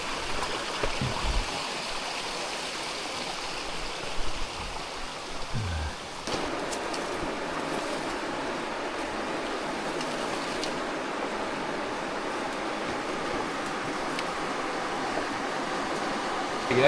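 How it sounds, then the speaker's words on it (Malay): A jungle stream flows steadily on a trail toward Gunung Tahan, its continuous rushing hiss close and even throughout, with a couple of faint knocks early on and no talking. "Ni ada anak sungai lagi."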